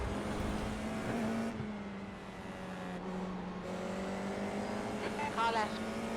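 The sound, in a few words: FIA F4 race car alongside at Okayama, from a VR racing video game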